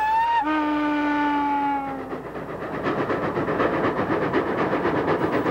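An O gauge model train rolls past on a scenic layout, opening with a sustained steam-style whistle blast that fades, followed by a steady rhythmic clatter of wheels on track, close and fairly loud with no talk.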